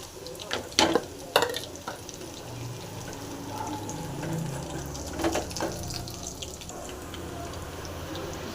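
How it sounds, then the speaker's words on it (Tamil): Mustard seeds splutter while frying in a pan for an amaranth greens kadaiyal, making a soft continuous sizzle. Sharp pops and crackles stand out near the start and again in the middle. "நல்லா கடுகு போட நல்லா பொரியுது"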